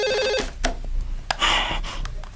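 A telephone rings in a Brazilian telenovela scene, a short electronic trill at the start followed by scattered clicks and rustling, with no one speaking.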